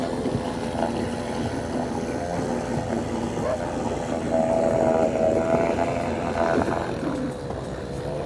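A boat engine runs steadily with a droning hum, the craft sitting high in the water and underpowered for its size; the sound holds constant and grows slightly louder midway.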